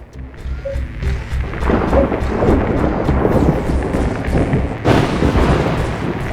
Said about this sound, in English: The ion storm is disabling our equipment.